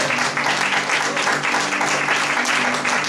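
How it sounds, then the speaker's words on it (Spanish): A church congregation applauding together during a worship service, dense and steady sustained clapping filling the room with no speech over it. "Den un aplauso grande a este Dios poderoso"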